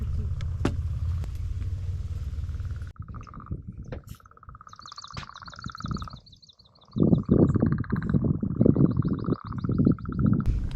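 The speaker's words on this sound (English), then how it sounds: "Those frogs really sound weird, almost alien-like." Frogs croaking in a marsh, odd pulsing and trilling calls repeating in bursts, mid-distance, heard between passing road traffic and low rumbling noise.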